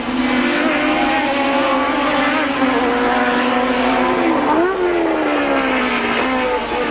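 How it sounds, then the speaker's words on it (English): Race cars at the 1981 Australian Grand Prix roar along a street circuit, a loud sustained engine whine that rises and falls in pitch as cars pass near, with a sharp shift around the corner and a second engine layered beneath. "Alan Jones comes on to the main straight as, in fact, Moreno disappears into Valvoline Corner"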